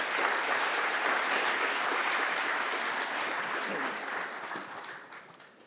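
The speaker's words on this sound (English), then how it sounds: "please join me in giving a round of applause to our panelists" Applause from a summit audience for a panel on humanoid robotics, many hands clapping in a full, even roar that holds steady and then gradually fades out over the last couple of seconds.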